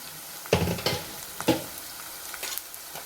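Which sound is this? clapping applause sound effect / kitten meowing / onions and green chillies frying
onions and green chillies frying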